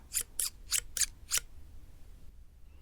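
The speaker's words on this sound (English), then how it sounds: "So those are my dressmaking scissors, sewing scissors" Dressmaking sewing scissors make five crisp, evenly spaced snips close up, each a sharp bright blade closing, followed by a quiet pause.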